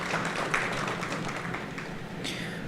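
Audience applause for a candidate at a primary election forum, a steady wash of many hands clapping at moderate volume in a hall.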